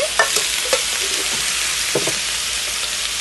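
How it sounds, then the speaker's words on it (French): Cherry tomatoes tumble into water in a pan and are stirred, giving a steady bubbling, sizzling bed with a few soft knocks and clinks, close by and moderately loud. "alors voilà mes tomates cerises. Et donc je vais les incorporer à l'eau"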